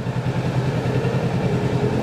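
Kawasaki Z650 2023 motorcycle engine running steadily, a continuous mid-pitched throbbing drone at close range with no voices over it.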